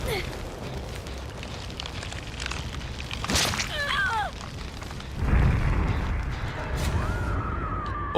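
In the game Dead by Daylight, a flashbang goes off with a sharp bright burst followed by a rumbling, fiery roar and a ringing whine, amid game noise and voices.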